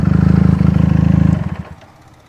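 A Benelli TNT300 motorcycle engine runs loud and close with a rapid pulsing throb, then drops away as the revs fall and the engine winds down to a stop.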